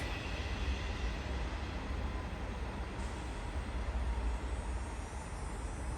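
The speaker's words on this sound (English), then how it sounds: "This train has like mostly empty intermodal cars, which is weird." A freight train of mostly empty intermodal cars rolls past at Bloomington GO Station, giving a loud, steady rumble and rail roar that holds for the whole stretch with no break.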